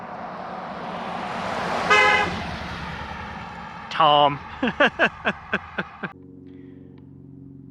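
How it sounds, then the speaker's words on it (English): A car passes on a road, a broad rising and fading rumble, then a horn toots once and a series of short, evenly spaced honks follows, with a voice briefly speaking. "I'm gonna let this car pass and we're gonna record it"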